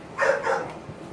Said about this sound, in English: Got some purebred American bully puppies here.